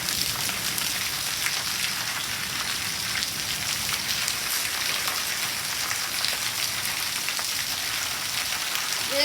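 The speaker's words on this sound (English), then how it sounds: "This is a rain band on the main street here." Heavy rain pouring onto a main street during a giant rainstorm, a dense, steady hiss of countless drops hitting pavement, loud and unbroken throughout.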